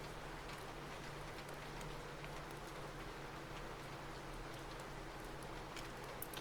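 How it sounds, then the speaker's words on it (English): Steady rain ambience with a dense hiss and scattered drops falling on a surface, even and continuous from start to end, with no voices over it. "Let me adjust the ambiance of the rain for you guys."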